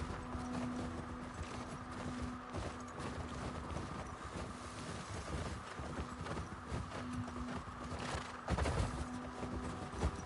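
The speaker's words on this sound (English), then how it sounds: "I guess I can't get off the horse here" Horse hooves clip-clop steadily through the whole stretch in The Last of Us Part II, a continuous rhythmic trot under game ambience, with no talk.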